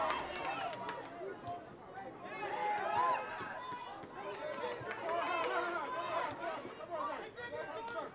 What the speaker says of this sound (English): Big Wellesley crowd here at Marciano Stadium's, the Wellesley faithful, you can hear them